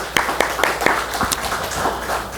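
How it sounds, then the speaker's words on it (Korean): A church congregation claps for the choir at a Sunday service, a handful of distinct claps in a loose, uneven rhythm, fairly close and moderately loud. "우리 찬양대 위에 또 축복의 박수, 감사의 박수 하나님께 올려드립니다"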